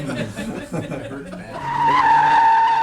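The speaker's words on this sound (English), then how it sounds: "a specially prepared Mustang with hydraulically controlled outboard wheels to lift the tires off the ground to induce skids" Engine noise gives way to a sustained, high-pitched tire squeal as a Mustang fitted with hydraulic outboard wheels skids at a driving school, with a voice briefly audible at the start.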